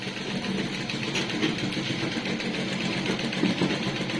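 A small electric motor runs steadily at home, a faint, even mechanical whir with a slight rhythmic knock, continuous for a few seconds with no talk.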